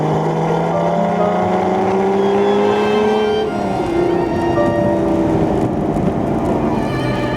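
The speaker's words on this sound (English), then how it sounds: "install my favorite exhaust for these cars, the Carnool GT Sport exhaust" Porsche Boxster engine revs steadily through a Carnool GT Sport exhaust, a continuous loud throaty drone with rising pitch sweeps, close and alone throughout.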